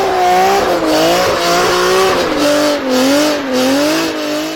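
A loud, close BMW E46 M3 engine with a metallic, raspy tone. Its pitch rises and falls as it revs repeatedly.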